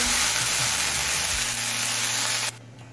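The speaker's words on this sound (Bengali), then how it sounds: "শাকটা দিয়ে মিনিট দিয়ে ভেজে নিলাম।" Drumstick leaves (sajne) fry in a pan before joining a dal, a loud dense sizzle filling the close foreground with low stirring rumbles, then cutting off abruptly near the end to leave a faint quiet.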